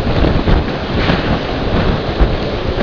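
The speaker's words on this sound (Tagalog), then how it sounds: "Sobrang lakas ng alon" Strong wind and crashing waves roar during Typhoon Pedring, a loud, dense, unbroken rush with gusts buffeting the microphone and no voices.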